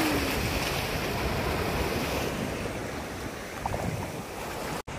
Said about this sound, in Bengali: একটু পরে আরো ঢেউ হবে।